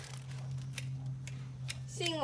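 Scissors snip through the core of a washed burdock root on a Kagoshima farm, giving several sharp, quiet clicks over a low steady hum, followed by a brief voice at the end.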